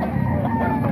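A chicken at a Baliwag poultry market gives a short, loud, harsh cluck-crow burst close up, with no talk over it.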